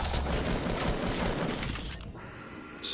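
Rapid gunfire rips through player-built walls in the video game Fortnite, a dense, loud volley of shots that fades briefly before a final short burst, with no talking.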